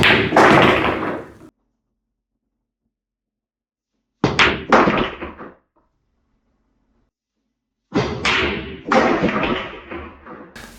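Billiard trick shot in which the cue ball strikes the 9 ball full in the face, splitting four balls toward the corner pockets: sharp close clacks at the start, then two later bursts of knocking ball impacts separated by silence.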